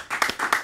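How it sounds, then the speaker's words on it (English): A crowd claps to welcome a guest arriving at a casual podcast-style hangout, with several quick bursts of hand claps close to the microphone over roughly a second. "Y'all clap it up for my dog, YTB Fatt, in the motherfucking building."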